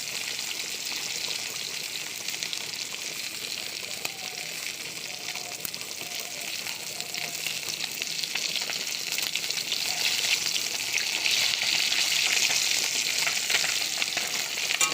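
Small hilsa fish fry in hot oil, giving a constant close crackling sizzle that grows slightly louder and busier toward the end, with no voices.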